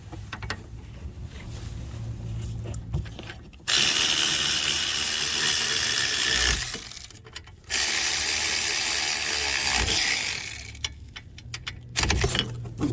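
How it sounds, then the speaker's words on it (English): Ratchet wrench tightening the brake caliper holder on a 2012 Chrysler 300 with a 5.7-liter engine: rapid clicking pawl bursts in long runs with brief pauses between, close and fairly loud, no talking. "we want to tighten up our brake caliper holder"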